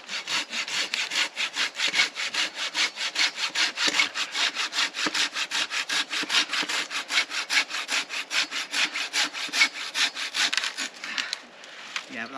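Tree branches being cut for firewood with a hand saw in a woodland camp, with steady, rhythmic back-and-forth rasping strokes, close and clear, repeating for over ten seconds before a brief pause near the end.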